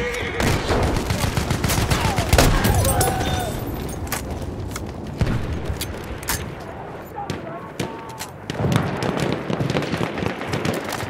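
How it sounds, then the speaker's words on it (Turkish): Machine gun fire in a Battlefield 1 battle, rapid bursts and scattered shots cracking near and far across the scene, with heavier rattles early and late and a voice speaking briefly amid the din. "Orada bir makinalı tüfek var."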